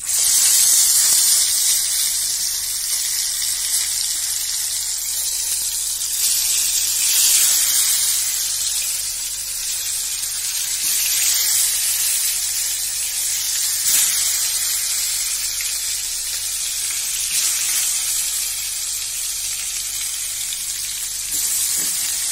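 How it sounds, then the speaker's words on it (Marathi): Loud, steady hissing sizzle of brinjal frying in hot oil, continuing with slight swells and no one speaking. "तेल गरम झालं आहे, आता यात टाकूया आपण वांगे"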